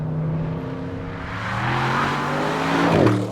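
Audi RS6 estate on standard air suspension accelerating through a corner, a steady engine drone rising in pitch as the throttle is squeezed, heard alone from inside or close by.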